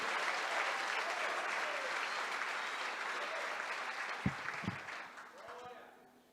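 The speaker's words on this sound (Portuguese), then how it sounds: "Você pode aplaudir e glorificar a palavra do Senhor?" A church congregation applauds steadily, the clapping thinning and fading out at the end, with a couple of thumps near the finish.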